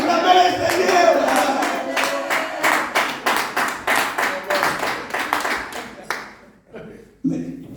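A church congregation clapping in unison to acclaim the Lord, a steady run of loud rhythmic claps from a crowd that ends abruptly, with a preacher's voice briefly heard afterwards.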